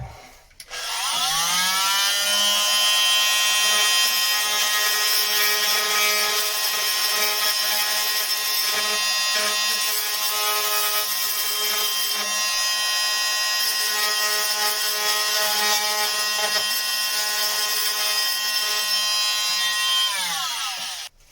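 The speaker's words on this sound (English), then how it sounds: "Trying to cut into it, plunge cut, but not go too deep so as I go into that lip" A power saw plunge cuts into wood through a layer of resin, giving a sustained, loud whining drone with a steady pitched tone that holds for about twenty seconds before it stops.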